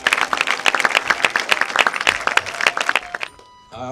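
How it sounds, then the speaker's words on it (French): Audience applause for jurors at a short-film festival, dense rapid clapping from a large crowd that fills the room, then drops away near the end as a faint tone lingers. "je vais demander à tout le monde d'applaudir vraiment, de faire une sorte de standing ovation à nos jurés"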